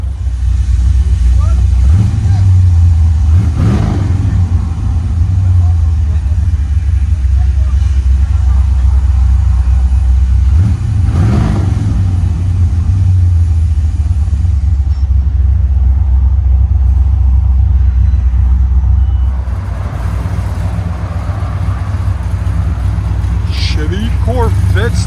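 Inside the cabin of a 1969 Chevy Corvette Stingray with a four-speed manual, its V8 with headers and Flowmaster Super 44 exhaust rumbles low and steady, swelling briefly twice as the throttle is blipped.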